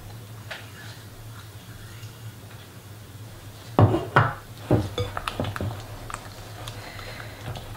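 Homemade praliné is mixed into a cream, heard as a quiet stretch followed by a cluster of sharp utensil clinks and taps against a bowl, then lighter irregular tapping and scraping.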